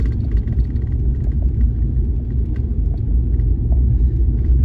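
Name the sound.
vehicle driving over bumps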